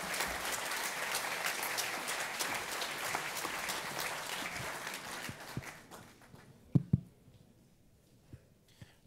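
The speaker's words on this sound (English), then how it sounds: "First, I guess we can applaud Leone." Audience applause after an open-source intelligence talk on tracking weapons sales, steady and full for about six seconds, then thinning to a few scattered claps and louder close handclaps near the end.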